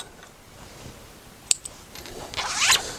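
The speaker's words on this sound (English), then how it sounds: "So I'm going to take that, split that zip" A zipper zips briefly on a bolster cushion during upholstery work, a quick close rasping burst near the end after a couple of small clicks, in an otherwise quiet room.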